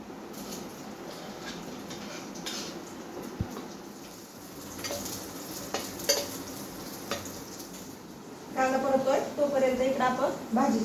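Mustard seeds and cumin tempering in hot oil in a kitchen pan, a soft crackle and sizzle with scattered pops that grows busier and louder near the end, while a person talks over it.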